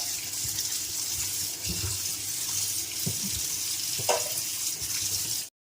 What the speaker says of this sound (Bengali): যেগুলোকে বেছে খুব ভালোভাবে জলে ধুয়ে নিতে হবে।